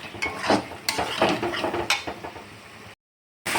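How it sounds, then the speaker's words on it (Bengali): A spoon stirs sauce and spices through a sizzling pan while jackfruit and prawn masala cooks, giving close, repeated scraping strokes over a steady frying hiss before a brief drop to silence. "এবার সসটা দিয়ে আর একটু নাড়াচাড়া করলেই হয়ে যাবে।"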